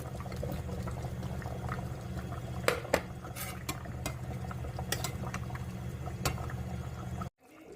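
Potatoes dropped into beef broth simmering for stew, a low steady bubbling with scattered clinks of utensils against the pot, quiet and close.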